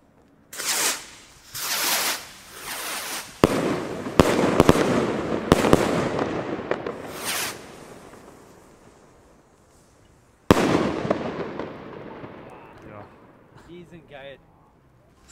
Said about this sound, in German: wirklich ordentliche Salutraketen mit einem schönen Silberschweifaufstieg dabei.